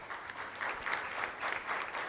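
Applause from the audience at a solemn council session, steady dense clapping filling the whole moment at moderate loudness with no voices over it.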